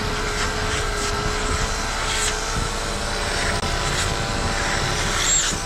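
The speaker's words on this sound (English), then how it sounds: "It sucks the hair, takes it to the back." A clipper vac runs steadily while clipping matted hair from a doodle dog, giving a constant close motor whine and airy suction hum throughout.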